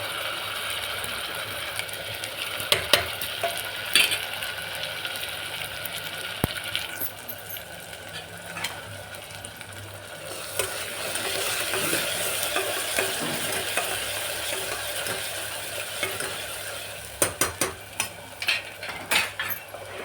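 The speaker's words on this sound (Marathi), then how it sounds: "तेल सुटस्त तळून घेऊ आपण" Tomato and ground spice paste frying in oil with onion in a pan, a steady sizzle under repeated stirring scrapes and occasional utensil clinks against the pan.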